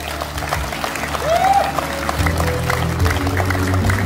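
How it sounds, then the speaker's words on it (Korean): An audience at a political event in Yeosu applauds as local council members are introduced, a continuous wash of clapping with a low background hum and a brief tonal sweep. "여러분들 큰 박수 부탁드리겠습니다"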